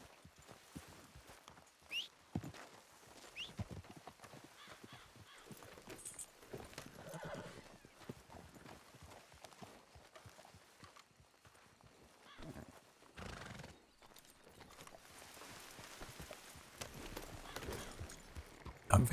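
Horse hooves clip-clopping steadily in a video game, with a whinny and other horse sounds, quiet and somewhat distant, continuing throughout the stretch.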